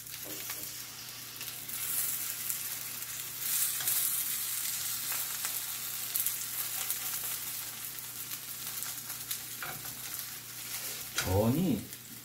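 Napa cabbage and chive pancakes (jeon) fry in an oiled pan, giving a steady close sizzle and crackle throughout with brief stirring or scraping near the end.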